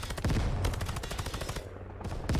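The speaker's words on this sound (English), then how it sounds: "Now I've got my MP5, which I would much more prefer to shoot in full auto, because it's an MP5." An MP5 submachine gun fires full-auto in the tactical shooter Ground Branch: a rapid, loud, continuous rattle of close shots with a brief break near the end before firing resumes.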